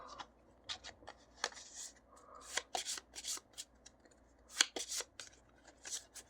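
A deck of playing cards being shuffled by hand during a tabletop board game, quick dry riffles and snapping flutters in uneven bursts, close and fairly quiet with no talking.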